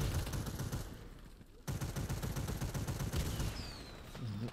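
Gunfire and sniper shots ring out in the online shooter Warface, rapid bursts of reports at moderate level with a brief gap before the firing resumes.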